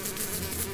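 Flies buzzing as a sound effect for the biblical plague of flies: a dense, steady insect drone with a high whine, continuous and fairly close for under a second, no voices.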